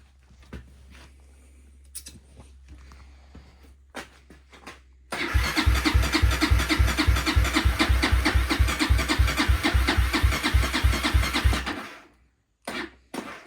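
Honda CRF230 motorcycle engine cranking over repeatedly without catching, a loud, steady rhythmic chugging that runs several seconds and then cuts off, preceded by quieter clicks and handling noises.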